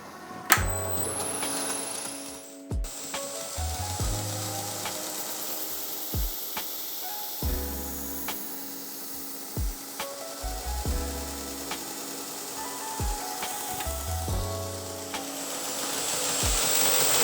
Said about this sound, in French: On peut aiguiser avec cet outil-là, à plat aussi